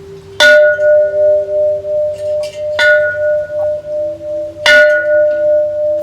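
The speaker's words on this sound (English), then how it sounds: "got to ring the bell." A large bell in Thailand is struck three times, each strike ringing out loudly and humming for a long, slowly pulsing decay.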